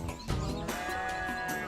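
A sheep bleats in a drawn-out wavering call at Hacienda Napoles, where it is kept with other animals, fairly close and with no talking.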